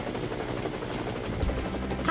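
A helicopter with a steady, rhythmic rotor chop and engine whine, fairly close and continuous for a couple of seconds.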